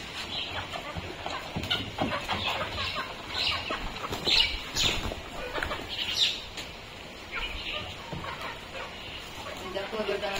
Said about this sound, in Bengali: এইবারটা মোরগ মুরগি গুলো ছাড়বে